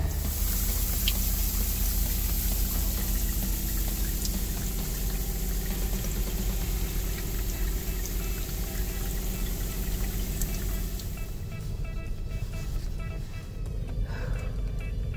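Shower water runs steadily inside a converted bus, a constant hissing spray that carries on without a break for the whole stretch, close by and fairly loud, with no voices.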